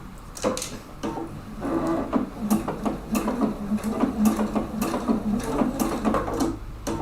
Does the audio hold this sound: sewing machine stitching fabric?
yes